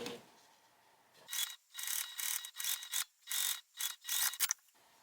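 Sewing machine stitching a seam, a quiet rhythmic run of about eight short mechanical whirring bursts with brief pauses between, close and alone.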